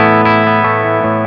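Electric guitar through the Prometheus Plexi-style pedal's power amp section alone, the pedal switched off, rings out as one loud, sustained, harmonically rich chord with light picking movement, played with no talk.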